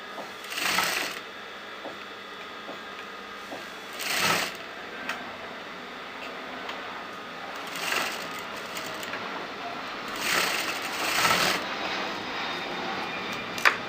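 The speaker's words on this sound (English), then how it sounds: "Just sew on the margin." A sewing machine stitches along the margin of a fabric neckline in several short bursts separated by quiet pauses. The whirring runs are moderately faint and there is no voice.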